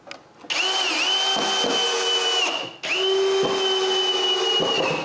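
A power drill drives screws into the wooden frame of a homemade chainsaw lumber mill, whining loud and close in two long bursts separated by a brief pause, the pitch dipping slightly as each screw bites.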